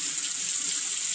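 Tap water runs steadily from a faucet into a sink for hand washing, a constant close hiss with no voices over it.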